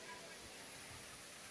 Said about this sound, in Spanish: miren ya cómo se escucha ese sonido del río.